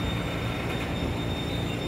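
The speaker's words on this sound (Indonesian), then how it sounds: "Mungkin kereta lain yang lewat juga." Another train passes alongside on a rail trip to Bogor, Indonesia, heard from inside a carriage as a steady, dense rumble and rattle. A faint high squeal runs through it throughout.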